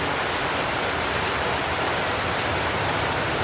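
Steady rain pouring down in a flooded area, a dense, unbroken hiss that runs without pause, with no voices over it.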